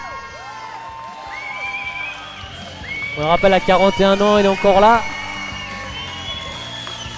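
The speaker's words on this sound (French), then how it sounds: "Et voilà Jamal que tout le monde applaudit." A crowd cheers and applauds for fighter Wahib Jamal after his bout at the MJM 20 Ans fight event, swelling loudly in the middle before easing off, with a commentator talking over it.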